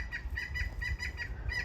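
A backyard chicken makes quick, repeated high clucks in an even rhythm, close and moderately loud, over a low outdoor rumble with no talking.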